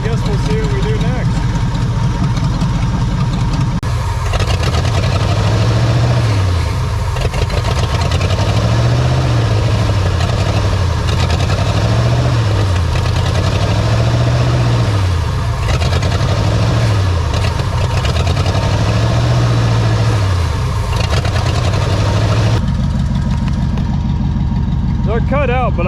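A 1970 Pontiac Grand Prix's 455 V8 idles loudly and steadily, its rumble rising and falling in slow revs through the middle before settling back to a rough, low idle.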